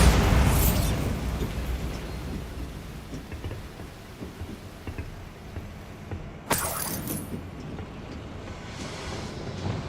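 A Bombarda spell explosion in Hogwarts Legacy, a loud rumbling blast right at the start that decays into a long roar, with a second sharp burst a few seconds later against a noisy game background.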